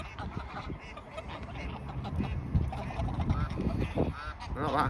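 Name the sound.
ducks and geese calling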